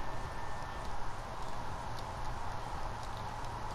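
Horse hooves walking at a steady pace in Red Dead Redemption 2, a soft, continuous clip-clop held quietly under a low ambient wash.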